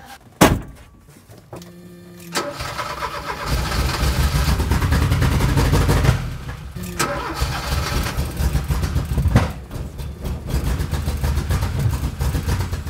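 A homemade wind-turbine car's engine cranks briefly, catches and starts, then runs at a rough, uneven idle with loudness surging and dipping. It is close and loud, with no talking.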